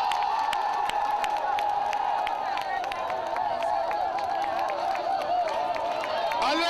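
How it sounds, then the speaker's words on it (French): A political rally crowd in Paris cheers and claps, a dense steady wash of voices and whoops with scattered sharp claps, loud and continuous throughout. "qu'on accueille avec acclamation et respect Alain Toussaint, s'il vous plaît."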